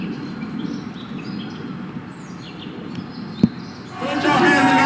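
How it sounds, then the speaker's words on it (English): Outdoor street ambience with birds chirping, a steady low background hum under faint high calls, an isolated knock near the middle, and a louder, brighter wash of sound toward the end. "So this is just street sounds, birds, just to have that nice outside feeling with the sun."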